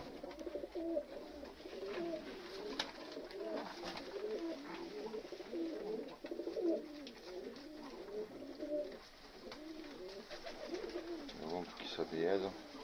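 Pigeons coo repeatedly while they feed, soft rolling calls overlapping at close range for the whole stretch, with a faint voice in the background.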